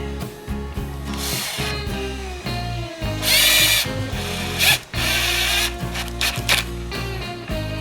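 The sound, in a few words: power drill drilling holes in wooden dowel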